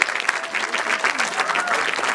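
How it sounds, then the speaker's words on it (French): Audience applause at a video festival awards ceremony, dense and continuous clapping from a crowd filling the short stretch. "Alors c'est France, je crois qu'on peut l'applaudir"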